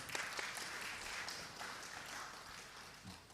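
Conference audience giving the moderator a round of applause, a dense even wash of clapping from a crowd that holds steady for a few seconds, heard from some distance.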